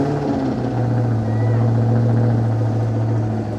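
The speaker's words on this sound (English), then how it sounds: "it's still like rough idling" A Ford Cobra car engine idles roughly, a loud, steady low rumble with a slightly uneven, choppy texture running close and continuous throughout.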